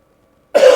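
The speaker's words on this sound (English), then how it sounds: "Excuse my coughing." A single short, rough cough bursts out close to the microphone after near silence, harsh and throaty, with background game audio from Farming Simulator 22 barely audible.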